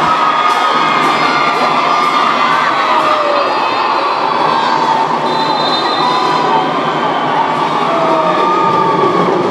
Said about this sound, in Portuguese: E olha aqui a torcida do Iema.